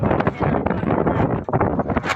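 Strong wind buffets the microphone with continuous rumbling gusts, loud and close, with no clear voices.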